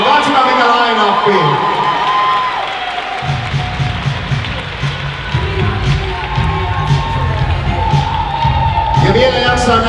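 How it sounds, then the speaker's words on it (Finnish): Audience at a bikini fitness championship competition, over-168 cm class, loud crowd cheering, whooping and clapping that swells and holds throughout, with an amplified announcer's voice talking over it. "Hieno porukka, kannustaa, jätäkää aplodit loputkin"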